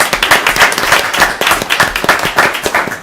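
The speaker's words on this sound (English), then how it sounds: "Let's give them a round of applause" Loud, steady applause from the audience at a La Porte ISD school board meeting, honoring the girls' and boys' cross-country teams, with dense rhythmic clapping close by throughout.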